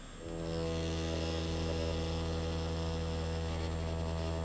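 A tattoo machine hums steadily once switched on as the needle meets skin, a loud, even buzzing drone that starts abruptly and holds without a break.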